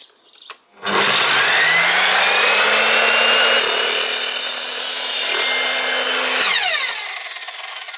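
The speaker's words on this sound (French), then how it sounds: "on va essayer de couper le PVC" Evolution Fury 3 XL saw cutting PVC, one continuous loud whining cut lasting several seconds after a short start, with a steady tone that drops away as the blade spins down, close and without speech.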